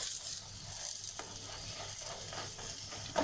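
Börek fries in oil in a pan, giving a soft, continuous sizzle with occasional faint scrapes and clicks, fairly quiet and steady with no voices.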